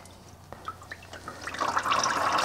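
Toyota hybrid transmission fluid draining from the fill hole, a faint trickle and drip that grows into a steadier, louder splashing pour toward the end.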